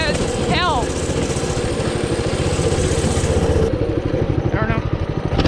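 A 2020 mini bike's small engine drones and pulses as it rides through mud and a water hole, close and loud with a steady throbbing rhythm, and a voice speaks over it.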